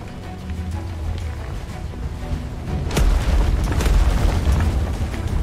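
Ship cannons fire during a naval battle in the video game ATLAS, a low rumbling boom that swells midway and lingers loudly, with no speech.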